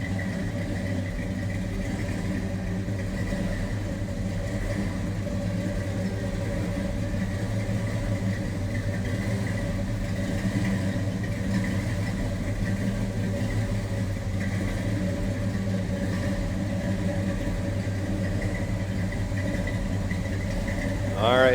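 A 1967 Chevrolet Chevelle SS two-door hardtop V8 idles steadily for the whole stretch, a low, even rumble close by with no talking over it.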